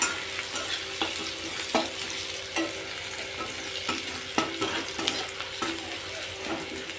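Nigella seeds (kalo jeera) sizzle steadily in hot oil as a tempering for jute-leaf curry, a constant frying hiss broken by soft, regular clicks of stirring, with no talk.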